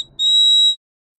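A video game whistle gives one clean, piercing, high-pitched tone lasting about half a second. It stands alone against near silence.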